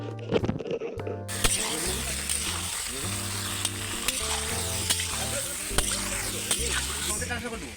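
Salted chicken pieces stirred in a hot pan with oil, steady sizzling and frying with scraping and clattering of the spoon against the pan, close up; a brief quiet start before the sizzle kicks in.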